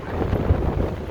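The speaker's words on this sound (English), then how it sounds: "Still windy as fuck." Strong wind buffets the microphone on a beach at night, a brief, loud, continuous roaring rush.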